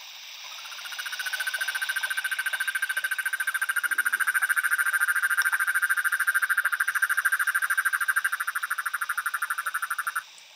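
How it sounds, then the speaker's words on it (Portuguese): A Rhinella ornata toad near Botucatu gives one long, loud, even trill of rapid pulses that swells in and lasts about ten seconds before stopping, close by, with no talking. "um dos primeiros bichos é essa rinela ornata, que faz esse cantinho aqui"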